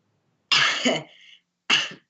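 Two sharp, close coughs, the first followed by a brief raspy trailing breath, then a short pause before the second.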